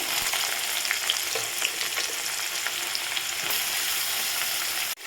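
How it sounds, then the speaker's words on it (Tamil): Onion frying in hot oil with mustard seeds and cumin for okra stir-fry, a steady loud sizzle with small crackles, close and continuous, with a brief thump near the end. "இப்போ நம்ம வெங்காயம் சேர்த்துக்கலாம்"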